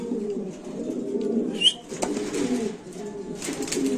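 Pigeons coo softly at an exhibition pigeon market, a low murmuring that runs steadily under the crowd noise, with a brief higher chirp partway through.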